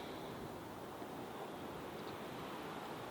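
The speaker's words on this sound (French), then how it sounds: "Il y a un bon vent." Strong wind blowing outdoors by a wall near a cemetery, a steady broadband rushing roar that stays even throughout, with no voices.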